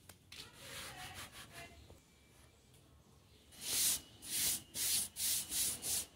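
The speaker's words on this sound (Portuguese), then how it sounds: "Agora vamos seguir lixando pra cá, ó." Sandpaper is rubbed by hand over a painted metal fender part, first in soft, uneven strokes, then in a run of six or seven brisk, rhythmic back-and-forth passes that grow louder and closer, with no talk.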